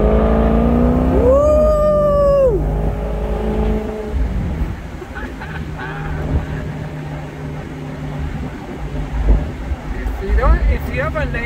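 A 2014 Maserati GranCabrio MC with its V8 engine revving loudly up close: a sharp rising and falling rev early on, then a steady throaty rumble, and another quick burst of revs near the end.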